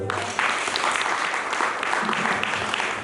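A church congregation claps and cheers for the Lord during a sermon, loud, dense and continuous applause filling the room.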